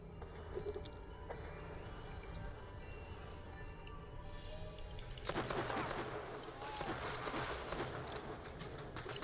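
A laser rifle firing in Borderlands: The Pre-Sequel, a quick rattling volley of sci-fi shots that starts partway through and continues in bursts against quieter ambient game sound, with a voice briefly heard.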